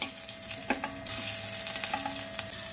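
Boiled potatoes fry in oil in a pan on a gas stove, a steady hissing sizzle with occasional stirring knocks, swelling a little louder partway through.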